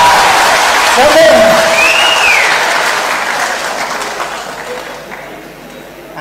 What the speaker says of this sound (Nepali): एकपल्ट ताली बजाउनुहोस् न, खुसीको कुरा हो।